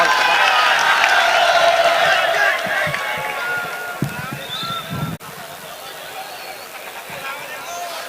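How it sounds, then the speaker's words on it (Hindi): A crowd at a mushaira poetry gathering in Behat cheers and applauds to welcome a poet. Loud, dense noise and voices fill the first few seconds and then thin to a quieter hubbub, with a sharp knock near the end. "आप जोरदार तालियों से इस्तकबाल करें"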